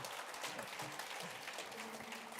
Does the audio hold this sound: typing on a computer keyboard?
no